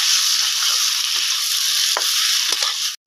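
Chilli, garlic, ginger and onion paste frying in hot oil for a fish curry, a loud continuous sizzle with a few soft stirring scrapes, ending abruptly.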